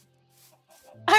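A chicken in the video game Minecraft gives a short cluck, close and clear, after a quiet stretch with faint tones in the background.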